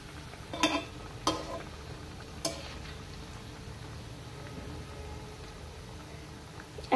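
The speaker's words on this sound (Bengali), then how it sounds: "এখন আমি এগুলো মিডিয়াম আঁচে ভাজতে থাকবো" Lentil fritters (dal bora) frying in oil over medium heat, a soft continuous sizzle with a few sharp clinks of a utensil against the pan early on.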